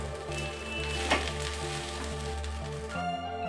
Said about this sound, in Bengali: এবারে আমরা এই ভাতটাকে একটু ভালো করে ভাজব